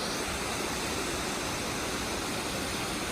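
A waterfall along the Franklin Ghost Town trail roars as a dense, unbroken rush of falling water, loud and close, filling the whole stretch with steady broadband noise and no voices.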